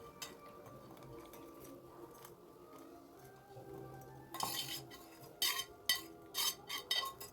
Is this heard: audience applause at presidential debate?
no